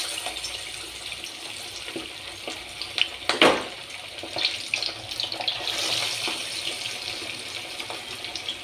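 Pieces of quail sizzling in hot oil in a pan, a steady close crackling hiss with a brief louder burst of spattering partway through.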